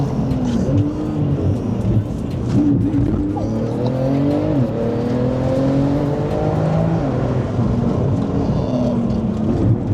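A Shelby GT500 slides and brakes hard at speed at the Carburacoeur festival, its engine droning loudly under squealing tires in a continuous, close roar.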